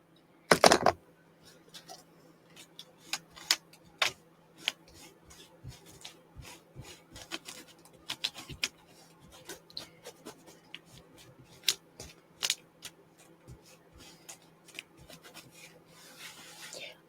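Scissors snipping paper at a papercraft desk, with a sharp clatter near the start followed by a scattered series of crisp cuts and light rubbing sounds, close and fairly quiet.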